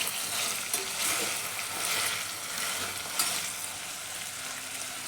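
Peanuts, green peas and green chillies fry in hot oil for veg pulao, a steady close sizzle with stirring scrapes rising and falling, and no talk over it.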